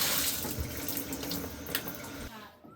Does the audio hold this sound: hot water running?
yes